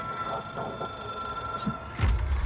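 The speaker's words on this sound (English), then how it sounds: "It is Hotline. a phone." A Hotline telephone rings in the video game Control, a steady electronic tone that holds for about two seconds before a deep, louder rumble takes over near the end.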